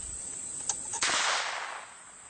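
A homemade knife-launching device fires with two light clicks and then a sharp snapping bang that fades through a hiss, close and alone over a steady high-pitched whine.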